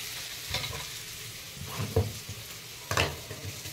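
Spices being stir-fried with food in a pan in a home kitchen, a continuous soft sizzle broken by a few scraping strokes of a spatula against the pan, close and alone.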